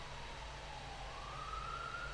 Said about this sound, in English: Can you hear police sirens now?